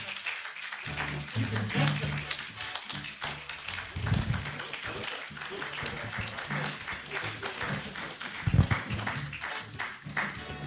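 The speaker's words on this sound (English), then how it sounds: "Please give me a round of applause." An audience at a pharmacy academy fellows' investiture claps in a sustained round of applause, dense patter with a few louder bursts, and a voice speaking faintly over it.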